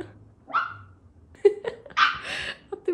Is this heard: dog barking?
yes